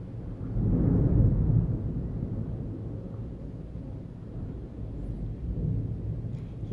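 Low, distant thunder rolls in a long rumble that swells early and fades gradually, faint and deep, with no voices over it.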